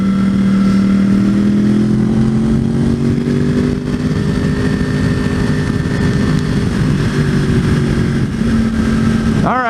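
A motorcycle cruising on a highway at about 76 mph gives a constant, loud engine drone mixed with rushing wind, steady throughout with no talking.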